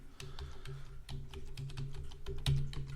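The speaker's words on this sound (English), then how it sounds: "Let me type that." Someone types on a computer keyboard in a quick, uneven run of sharp key clicks with a few louder strokes, close and clear with no talking.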